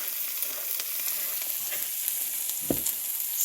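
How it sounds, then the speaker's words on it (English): Corn frying in a pan sizzles steadily and fairly close, with a soft stirring clunk partway through. "Frying corn."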